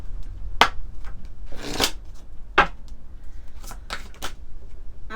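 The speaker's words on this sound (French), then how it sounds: "On va prendre quelques cartes de l'oracle de la lune." A deck of moon oracle cards shuffled by hand in a run of crisp riffling bursts and soft slides, close and clear, with no voices.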